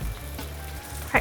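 Oil sizzles in a wok beside pushed-aside rice vermicelli noodles during a stir-fry, a steady close frying hiss running throughout with a brief sharper spatter right at the end.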